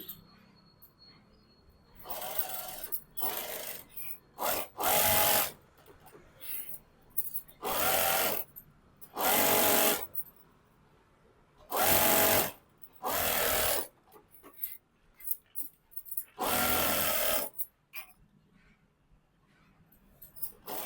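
A sewing machine stitches around the lining of an Anarkali dress in repeated loud, steady runs of a few seconds each, separated by quiet pauses with soft handling noises.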